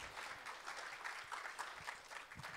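Audience at an international performing-arts show applauds dancers and singers, a faint, steady wash of clapping heard from a distance.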